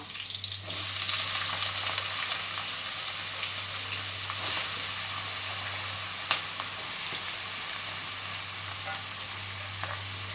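Potatoes sauté in oil with chili and butter, giving a close, continuous sizzle and hiss for the full length, with a steady low hum underneath, a single brief clink, and no voices.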